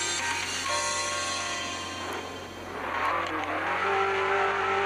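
Stock Mitsubishi Lancer Evo VI rally car in Assoluto Racing, its engine revving loudly and steadily, pitch rising and falling through gear changes, with some tire noise.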